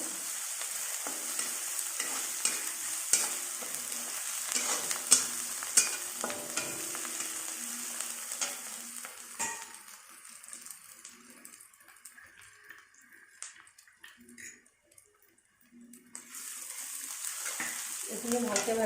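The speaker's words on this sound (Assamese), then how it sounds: "এইখিনিও ভাজি ল'ম আৰু" Ginger and garlic frying in a pan for a four-lentil muri ghonto, a soft steady sizzle with stirring scrapes that drops away midway, then returns near the end.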